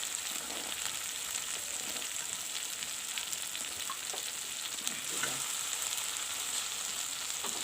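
Peas fry in a hot pan for a fish and cauliflower curry, giving a steady, bright sizzle with occasional stirring scrapes, close up and continuous with no talking.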